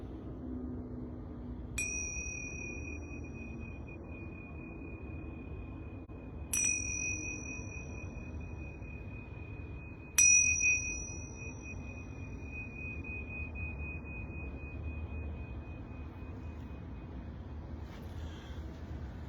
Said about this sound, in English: I'm going to ring these yoga bells 3 times.